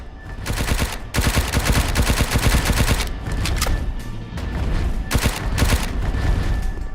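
Rapid bursts of video game gunfire aimed at a Brachiosaurus, loud and close, with dense automatic rattling in several runs and short pauses between them.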